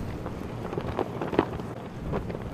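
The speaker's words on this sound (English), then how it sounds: "Very strong wind." Steady, blustery wind roars and buffets the microphone with low rumbling gusts, swelling slightly at moments across the whole stretch, outdoors on James Smith Cree Nation, Saskatchewan.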